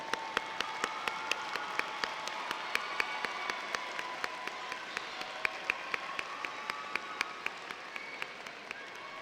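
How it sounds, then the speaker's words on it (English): A graduation ceremony crowd applauds the parents, a sustained, even wash of many hands clapping in a large hall, moderately distant and continuing without voices throughout. "Let's give a round of applause for our parents."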